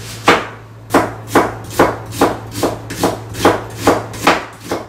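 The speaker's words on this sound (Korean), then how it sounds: "우선은 양파를 예쁘게 최대한 얇게 썰어줍니다." A knife slices onions thinly on a cutting board, about ten crisp, evenly spaced chops in a steady rhythm, close and clear, with no talking and a faint low hum underneath.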